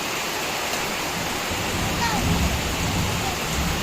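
Steady rain falls outdoors in the Philippines, a dense, even hiss that fills the whole scene, with faint voices underneath.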